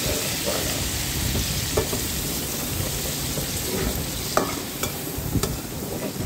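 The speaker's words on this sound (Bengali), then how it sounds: "এবার মশলাটা ভালো করে কষিয়ে নিলাম।" Chili powder, turmeric and cumin powder fry in oil while being stirred, a constant crackling sizzle broken by sharp scraping clicks of the spoon against the pan, close and without speech.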